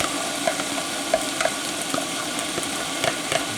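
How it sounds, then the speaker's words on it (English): Seasoned rice mixture simmering in a pot, a steady soft bubbling hiss with scattered light pops and clicks at an even moderate level, no voices. "It's starting to simmer like we want."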